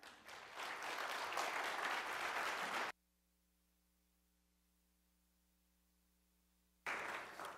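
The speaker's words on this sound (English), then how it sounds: "let's give him a big round of applause" Audience applause for a health speaker being introduced at an evening talk, a loud burst of clapping that stops abruptly into near-silence with a low electrical hum, then resumes briefly at the end.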